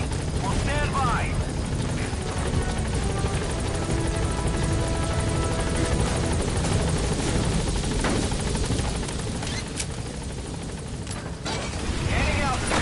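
A helicopter takes off in Metal Gear Solid V, with loud, continuous rotor thrum and turbine roar filling the whole stretch. A voice speaks over the engine noise.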